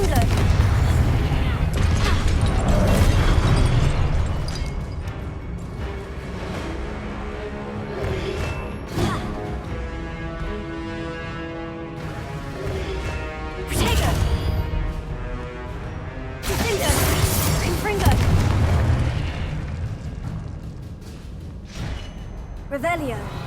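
Levioso and Confringo spell effects in Hogwarts Legacy: loud game audio with whooshing casts, booming blasts and crashing impacts, a dense continuous mix with a musical score and voices underneath.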